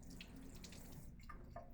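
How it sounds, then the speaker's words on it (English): Cold tap water runs steadily onto a small grinder sponge in a sink, a close, continuous trickling splash with a few brighter drips near the end. "get it wet with some cold water"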